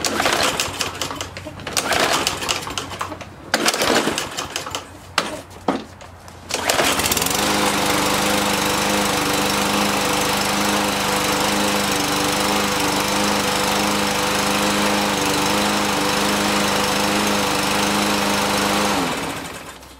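A Troy-Bilt TB200 small engine starts and settles into a steady, loud, even idle after maintenance, running alone for several seconds before cutting off at the end.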